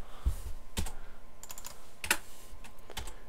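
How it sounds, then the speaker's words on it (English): A computer keyboard key is pressed to delete, giving a few sharp, separate clicks spaced apart, close and clear over a quiet room. "I'm double clicking this and then hitting delete on the keyboard."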